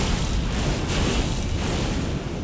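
In Elden Ring, a Cursed Blood Slice slash erupts in a fiery explosion, a dense booming burst with rumbling low end that holds for a couple of seconds before easing slightly.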